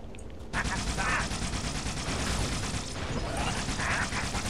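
Rapid automatic gunfire from Halo: Spartan Assault, a dense, loud barrage that keeps going almost without a break after a short quieter start, with game effects and a voice mixed in.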